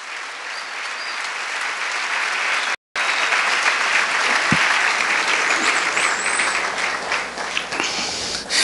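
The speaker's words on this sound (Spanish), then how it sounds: "Dele un aplauso al Señor." A church congregation claps steadily for several seconds, dense and loud, with a brief dropout partway through.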